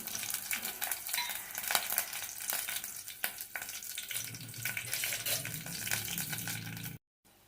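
Onions and green chilies fry in hot oil for pepper rasam, giving a steady close sizzle with occasional stirring clinks and a deeper bubbling toward the end.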